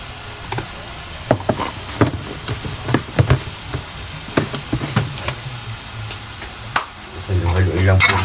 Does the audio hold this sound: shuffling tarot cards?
no